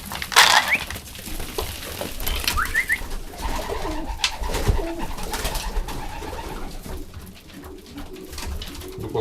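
Pigeons coo and call in a loft during feeding with hazelnuts, soft repeated coos mixed with wing flutters, rustling and scattered chirps, fairly close and continuous throughout.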